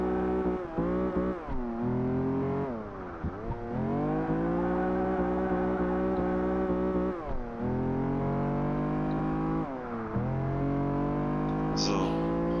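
A Lamborghini Diablo engine in the Project Gotham Racing 4 video game drones loud and steady, with pitch climbing through gear shifts and dropping sharply at each change, then rising again.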